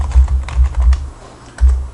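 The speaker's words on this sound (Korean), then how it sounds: "자료를 입력할 때는 값을 입력을 하고 키보드에서 엔터키를 치면 바로 다음 항목으로 넘어가게 됩니다." Keystrokes on a computer keyboard while entering member records in management software, a few separate clusters of clicks that come and go in short bursts, close and fairly loud with no talking.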